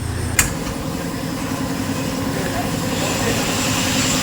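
A customized 2018 Mitsubishi L300 van with a side door runs at a steady idle, a continuous low rumble close by after a brief knock at the start, with faint talk underneath.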